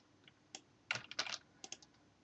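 Several quick keystrokes and presses of the arrow keys on a computer keyboard, sounding as scattered clicks in a short burst with brief pauses between, close and fairly clear.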